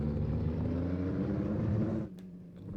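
Turbocharged race car engine from Assetto Corsa, a McLaren MP4/4 or Lotus 98T Formula One car at Spa, droning steadily at high revs before abruptly dropping off to a lower idle rumble.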